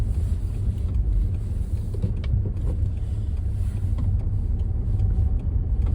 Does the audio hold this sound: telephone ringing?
no